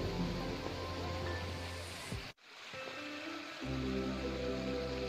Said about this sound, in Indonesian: Oh, indahnya air terjun Sri Getuk.